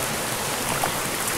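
Rain falls steadily outside a rocky cave beside a mountain stream, a constant broadband hiss with no break and no voices.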